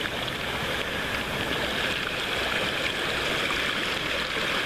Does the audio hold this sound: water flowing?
yes